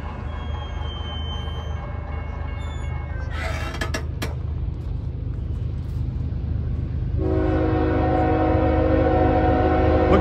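A northbound CSX freight train rolls through a grade crossing as the gates come down, a steady low rumble of wheels throughout, with a brief clattering burst midway and a loud sustained horn blast joining for the final few seconds.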